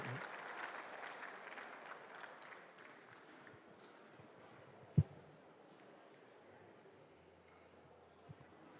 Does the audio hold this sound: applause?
yes